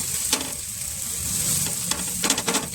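Bread toasts in ghee on a hot pan, giving a constant close sizzle with a few light scraping stirs and faint crackles, no voices.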